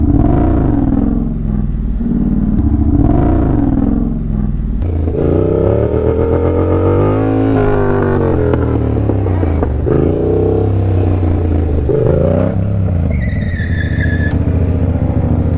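A motorcycle engine revs hard for a clutch-up wheelie, loud and close, with short blips that lead into a long climbing roar, then falling and rising revs with some clatter and no talk.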